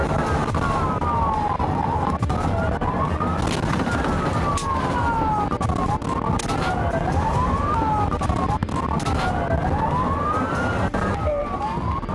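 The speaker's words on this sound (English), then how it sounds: "When the sirens blared" A police siren wails continuously, its rising and falling tone sweeping over and over, loud and close above a steady rumble of traffic.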